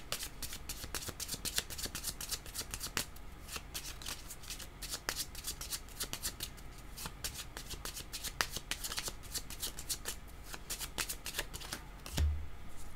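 Tarot cards are shuffled by hand in a close, quiet, continuous riffle of rapid papery flicks and slaps that runs for about thirteen seconds without speech.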